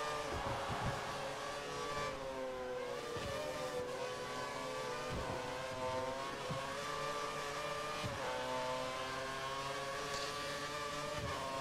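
A Formula 1 car on the Suzuka circuit in the racing game F1 2013, its high-pitched engine screaming loud and continuous as revs climb and drop through repeated gear changes.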